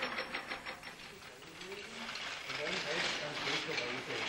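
A Bosch power jigsaw with pendulum action buzzes with a rapid, steady reciprocating rhythm while a voice speaks over it.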